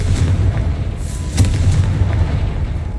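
Fiery Confringo spell blast from a wizarding action game, a loud booming rumble with sharp crackling bursts layered over a dense low roar, no voices.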